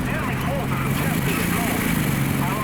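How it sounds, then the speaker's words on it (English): A Staghound AA armoured car engine in War Thunder drones steadily and loudly, a rough, buzzing hum with a low tone that stays constant throughout. "Oh dear, this engine sounds horrible."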